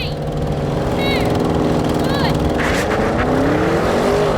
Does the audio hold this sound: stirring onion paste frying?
no